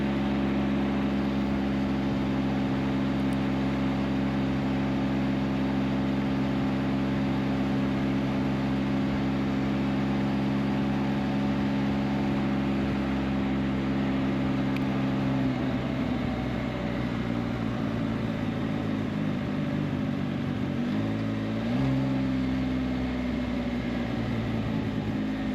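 A Can-Am Spyder RT engine idles steadily to burn off very old gas, a loud continuous hum with stable tones that dips and wavers briefly near the end, with no voices.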